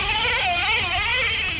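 Nitro Revo 3.3 nitro RC truck engine screaming at high revs, a loud, continuous buzzing whine with rising and falling pitch as the throttle works, close and steady throughout.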